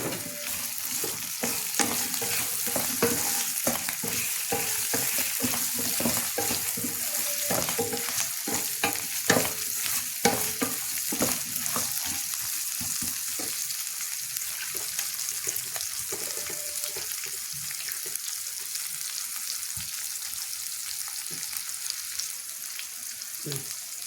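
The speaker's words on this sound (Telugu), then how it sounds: "ఇప్పుడు మునక్కాయలు కూడా వేస్తున్నా" Drumstick pieces stirred into a pan of frying mixed vegetables for Telangana-style pulusu, with steady sizzling and repeated scraping stirs close by, no talk.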